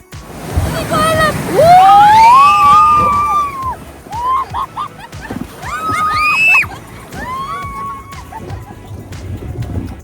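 Strong waves splashing over riders on the Everland Amazon Express raft ride, a wet rushing wash mixed with loud screams and shrieks from the riders, fairly close and loud throughout.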